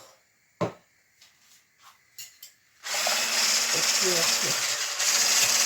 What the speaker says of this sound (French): Je fouette mes œufs comme ça.